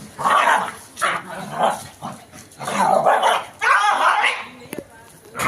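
A dog barks and yips in repeated bursts close by, with short gaps between them and a few whimpering sounds.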